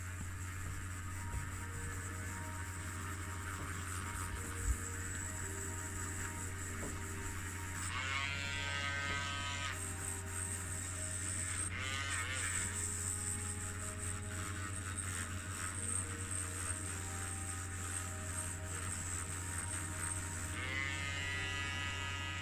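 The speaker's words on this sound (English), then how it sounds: "I'll start with the Dremel Micro and the steel wire attachment, just to try and take off this layer of crud" A Dremel Micro rotary tool with a steel wire brush scrubs crud off a 1972 Matchbox Superfast Woosh-N-Push die-cast car, making a steady high whine over a low mains hum, with several brief louder bursts of brushing.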